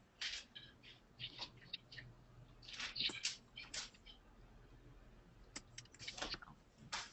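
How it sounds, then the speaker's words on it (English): Several people type on computer keyboards in a quiet classroom, giving faint, scattered bursts of light clicking with short pauses between them. "I think some people are typing."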